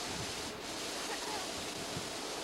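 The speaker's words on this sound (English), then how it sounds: "this is the blizzard of 93." Strong blizzard wind during the 1993 storm in New Jersey, a steady loud roaring rush buffeting the microphone throughout with no pause.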